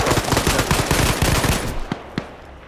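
Rapid bursts of suppressed AS-Val rifle fire in a competitive shooter match, dense and close, then thinning into two separate sharp shots as the exchange ends.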